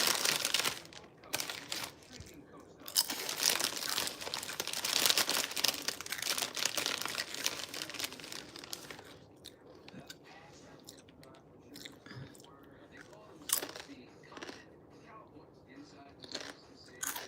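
Close crunching and chewing of a crunchy snack, with bursts of crisp bites and crinkling packaging, louder at first and then scattered, sharp crunches with quieter gaps between.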